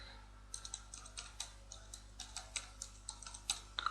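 Quiet, fast typing on a computer keyboard as an address is entered, a close run of light, irregular key clicks over a faint steady hum, with no talking.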